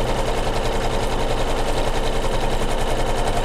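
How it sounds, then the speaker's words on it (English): Sewing machine tacking down fabric for a quilted pillow, a loud fast steady mechanical chatter of needle strokes running unbroken at close range with no voices. "Done tacking down the first one, it'll swap over and it'll tack down that second one"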